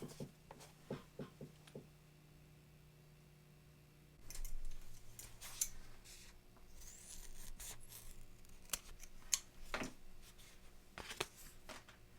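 Scissors snip away excess 3D puff foam at an embroidery machine: a few soft, quick cutting clicks come first, followed by quiet handling and rustling of the material, all faint and close.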